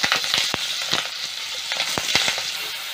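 Masala sizzles as it sautés with mustard seeds and red chilli in a pan for a Tamil rasam, with a steady frying hiss broken by sharp stirring scrapes and crackles, close up and without talk.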